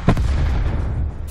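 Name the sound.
rocket launcher firing in video game Call of Duty Black Ops 4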